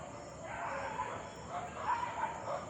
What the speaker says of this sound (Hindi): ये जो आपको बैकग्राउंड में दिख रहा है ना कुछ कुत्ते